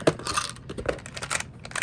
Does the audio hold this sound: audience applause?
no